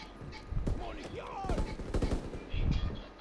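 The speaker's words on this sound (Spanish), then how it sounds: "disparando" Rapid bursts of video-game gunfire crackle in an online war shooter match, with short volleys and single shots scattered across the moment at moderate volume, under and between a player's talk.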